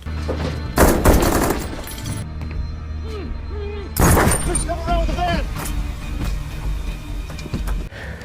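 Gunfire rings out in a film shootout as guards arrive, heavy bursts and sharp cracks mixed with shattering and engine noise, while dialogue and voices run underneath throughout.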